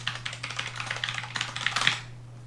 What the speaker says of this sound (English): It's a light strike keyboard by Bloody, and it uses UV light to like detect when the key gets